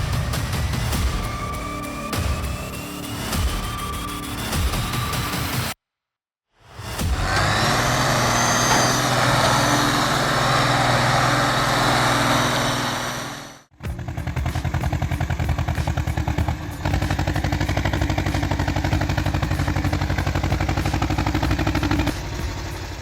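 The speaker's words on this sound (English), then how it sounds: "The Polish Ursus C330 kicks off the journey like a small yet gritty warrior, charging into the slippery mud, dragging an enormous pile of logs behind it" Polish Ursus C330 tractor dragging an enormous pile of logs through slippery mud, its engine loud and rough throughout, with clattering, two abrupt cuts and a steady droning stretch between them.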